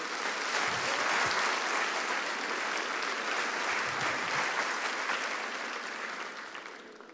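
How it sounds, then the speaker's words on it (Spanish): A church congregation gives a broad, steady round of applause, a dense wash of clapping that swells early and slowly thins out near the end. "Vamos a darle un aplauso a nuestro modelo."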